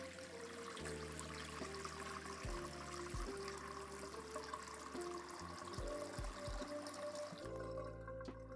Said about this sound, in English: Give them a quick rinse under cool running water, then gently pat them dry with a kitchen towel.